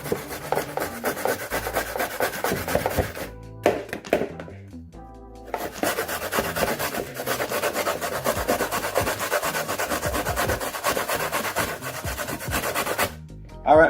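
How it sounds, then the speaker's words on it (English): Fresh coconut flesh being grated into flakes by hand, a continuous run of rough rasping strokes in a fast, even rhythm, close and fairly loud, with one brief pause partway through. "we are going to grate out some fresh flakes"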